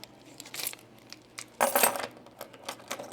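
Keys clatter as they are dropped indoors, a few light metallic jingles followed by a louder bright crash, then scattered small clinks fading out, with no talking.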